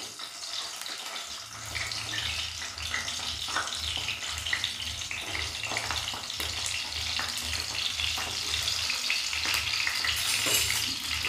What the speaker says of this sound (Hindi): तो यहाँ मैंने बैंगन सारे डाल दिए और अच्छे से फ्राई कर लेंगे उनको पलट पलट के।